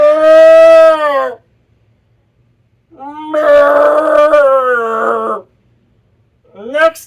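A voice imitates a cow mooing, giving three loud, drawn-out moo-like calls separated by short silences, the last cut off.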